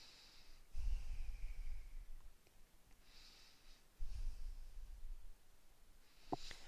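Two slow, deep breaths, each a soft airy inhale and exhale with a faint snort-like rush of air, come close and quiet during a yoga warrior pose, with calm silence between them.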